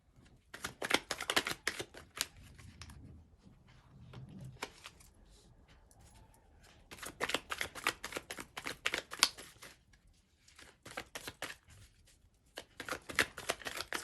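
Bursts of rapid riffling as a deck of tarot cards is shuffled repeatedly, close up, with brief pauses between rounds.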